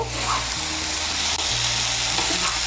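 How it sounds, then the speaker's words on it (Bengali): Fried okra cooks down with spice masala in a pan, giving a dense, continuous sizzle and hiss close by, with faint stirring underneath and no talking. "মশলার সঙ্গে মিশিয়ে নিয়ে ভেন্ডিগুলোকে আরেকটু মশলার সঙ্গে কষিয়ে নেব।"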